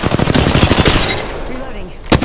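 Automatic gunfire in Apex Legends, a dense rapid burst of loud close shots that thins out, then a final sharp crack, with faint game voice lines mixed in.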